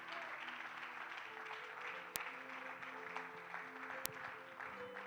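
A church congregation applauding and cheering in praise during a service: a steady wash of clapping from many hands, heard at a fair distance, along with sustained tones beneath it.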